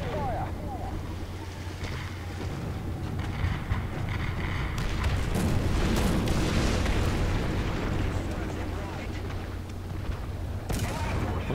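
Artillery strike in War Thunder during a tank battle with an American M4A1 (76) w, a rumbling barrage of booms and blasts rising midway and continuing throughout, loud, with a sharp burst near the end.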